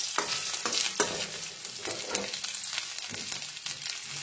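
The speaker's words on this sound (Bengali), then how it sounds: "এর মধ্যে আমি কাজু আর কিশমিশটা একটু নাড়াচাড়া করে নেব।" Cashews and raisins stir-fried with grated coconut in a pan for a vegetable dal: a continuous sizzle with repeated scraping strokes of a spatula, close and steady, no talking.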